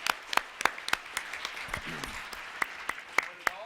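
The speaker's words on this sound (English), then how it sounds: "give them one more round of applause." Sparse, scattered hand claps from an audience at a school board meeting, a few sharp, separate claps at irregular intervals over a quiet room background rather than a full roar.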